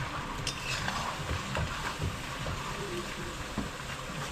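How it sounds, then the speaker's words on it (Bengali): Chicken being sautéed with a little water in a pan for a kosha dish in a home kitchen: a continuous close sizzle and bubbling with stirring scrapes and soft knocks throughout. "ওই জল দিয়ে কষানো হচ্ছে গাইস"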